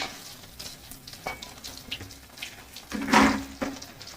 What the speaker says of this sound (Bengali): পনিরগুলো ভাজা হয়ে গেলে তারপরে চিংড়ি মাছটা ভাজবো